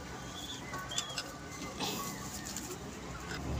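Pigeons cooing faintly amid a busy background of chirps and shuffling from a home loft of high-quality pigeons, with soft low coos repeating under the ambient noise.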